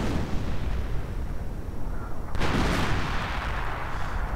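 Artillery shells pound a bunker in a World War II real-time strategy game, a dense continuous rumble of blasts with a sharper burst midway, loud and without talk.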